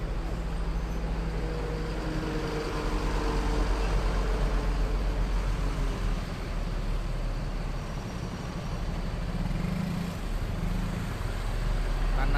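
An ANS Tanabe coach pulling out of Kampung Rambutan terminal, a low steady engine rumble with passing traffic noise and distant voices around the station, continuous and moderately loud.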